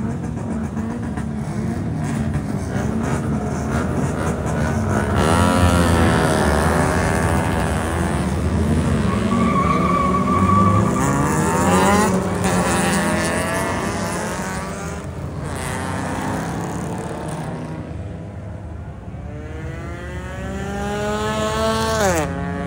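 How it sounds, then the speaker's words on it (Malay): Dense street traffic of many motorcycles and lowered cars passing at night in Kuantan, a continuous loud roar of engines with rising and falling pass-bys, occasional revving swells, and voices in the background. "Ramai motor dengan kereta sama ramai ni."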